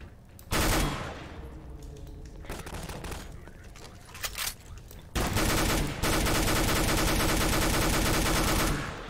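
Gunfire from a freshly picked-up weapon in Garry's Mod, one brief burst, a stretch of scattered shots, then a long unbroken stream of rapid automatic fire, loud and close.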